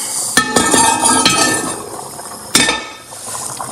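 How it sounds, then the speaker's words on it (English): A metal pot lid is lifted off a pot of boiling rice and gravy, giving a sharp clink and ringing rattle, then a second bright clank a couple of seconds later, close and loud with no talk. "Pull the lid."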